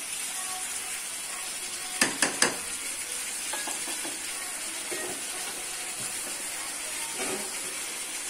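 Pudina chicken stirred and fried in a pan: a steady hissing sizzle runs throughout, with three quick utensil clacks early on and softer scraping strokes afterward.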